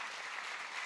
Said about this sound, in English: I'm going to give her a round of applause.